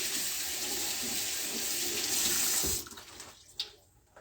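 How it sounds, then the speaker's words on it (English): Tap water runs steadily into a sink to rinse eggplant, a loud continuous splashing rush that cuts off partway through, leaving a few faint drips and small knocks. "All right, so let's rinse it."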